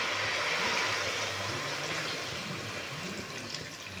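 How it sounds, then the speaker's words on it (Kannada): Water poured into a pot of country chicken (nati koli) for a village-style sambar, a steady rushing splash that runs continuously at close range with no talk. "ಅದು ಮುಳುಗಷ್ಟು ನೀರು ಹಾಕೊಳ್ಳಿ ಸಾಕು."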